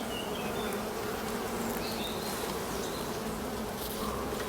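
Honeybees in a beehive during an inspection of brood comb, droning in a steady, dense, close buzz that holds evenly throughout with no voices.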